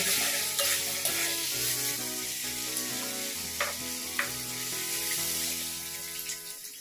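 Potatoes fried in spice masala sizzle steadily in a pan for potato dhokla, with a constant hiss of hot oil and occasional scraping taps of a spatula stirring, close and fairly loud.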